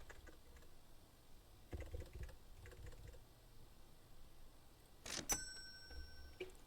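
Keys pressed on a keypad in a home garage, a few scattered soft taps spread across several seconds, faint and close, with a brief louder clatter near the end.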